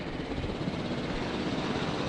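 Helicopter lifting off in a video game, a steady dense rotor and engine roar, loud and continuous with no pauses.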